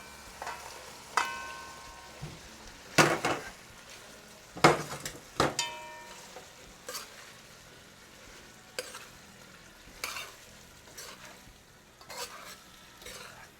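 Potato going into a simmering curry pot in a home kitchen in Paramin, Trinidad, with a spoon scraping and clinking against the pot in irregular bursts over a steady low bubbling and sizzle.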